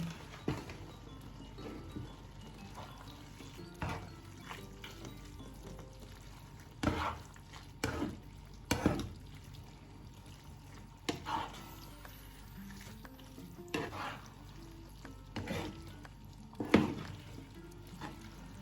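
Spoon or spatula stirring grated cheese into spaghetti carbonara in a pan, with soft irregular scrapes and wet clatters, several sharper knocks against the pan, close over a low kitchen background hiss.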